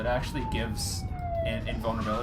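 Emergency vehicle sirens wail outside, a faint descending tone in the background while someone talks indoors over it.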